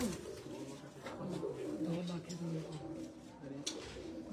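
Domestic pigeons coo in low, repeated throaty phrases at a pigeon-keeping gathering in Jinnah Garden, Islamabad, with steady outdoor background noise and people talking nearby.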